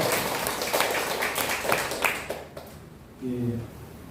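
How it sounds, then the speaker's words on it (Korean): Congregation applauding during a church service, a brief spell of moderate clapping that fades out before a voice speaks near the end. "하나님께 영광의 박수 드리겠습니다."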